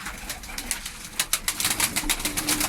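Pigeons coo at a pigeon fanciers' coop in Ankara, with soft repeated calls and a few sharp bursts of wing-flapping close by, with no voices over it.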